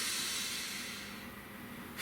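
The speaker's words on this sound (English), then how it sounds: "let's take a nice deep breath" A slow, deep breath taken during a calm tarot card reading, heard as a soft, steady, airy hiss that fades gently over about two seconds, with no talking.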